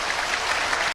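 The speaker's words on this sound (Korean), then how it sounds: "자, 박수로 모시겠습니다." A burst of dense applause from an audience at a security civic groups' rally in a Lotte Hotel ballroom in Sogong-dong, loud and steady clapping cut off abruptly just before the end.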